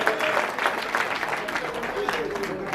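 Listeners at a Hindi kavi sammelan poetry gathering in a village clap together, a steady patter of applause with murmuring voices underneath.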